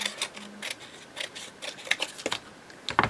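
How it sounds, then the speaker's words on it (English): Snipping of scissors through paper while working on a handmade forest fairy journal, a run of soft crisp cuts and rustles at close range, the blades catching now and then. "These scissors are not very good lately, they keep catching."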